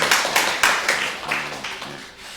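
A church congregation claps in thanks during a fifth-anniversary worship service, a few loud separate claps at first that blur into quieter scattered clapping before it fades.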